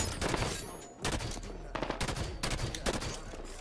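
Assault rifle fire in Halo 5 rattles in several quick bursts separated by short gaps, loud and close, with game sounds around it.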